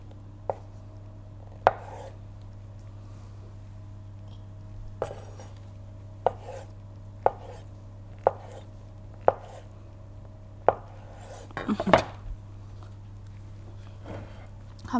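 A knife slices food into thin layers on a board while kheneffe with cheese is made: sharp, separate cuts come every second or so, close and clear over a low steady hum, with a short clattering burst near the end.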